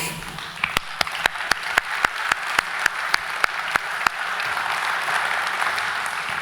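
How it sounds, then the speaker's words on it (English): Applause greets a guest coming on stage at a beef industry conference: a steady, evenly spaced rhythmic clapping gives way to a broader wash of crowd applause, fairly close and without talk. "Give him a big round of applause as we welcome him to the stage."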